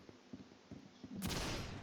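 Explosive gun fired in the Roblox shooting game: a few faint, quick clicks lead into a sudden loud, booming blast that keeps rumbling to the end.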